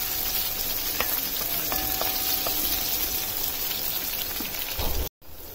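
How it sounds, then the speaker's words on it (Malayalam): Ginger garlic paste and green chili sauté in a pan with a continuous, fairly loud sizzle and a few light stirring knocks. The sound cuts out abruptly near the end. "ഇതിന്റെ പച്ചമണം മാറുന്ന വരെ നമുക്ക് ഒന്ന് വഴറ്റി കൊടുക്കാം"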